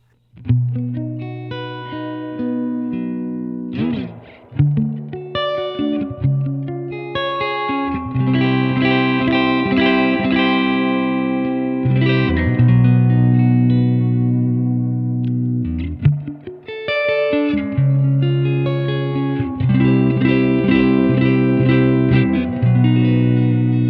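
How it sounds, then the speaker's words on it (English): Electric guitar played through an amplifier with its reverb engaged, sustained chords and single notes ringing loud and continuous with a wet, spacious tail, pausing briefly twice between phrases. "Bring that reverb back in."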